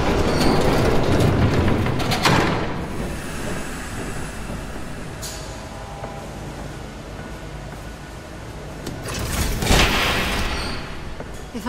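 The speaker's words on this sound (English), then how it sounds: "There's a train coming." A train rumbling past in the Batman Telltale Series game, a loud steady rush of wheels and rail clatter that swells early and again near the end, with a brief higher hiss midway.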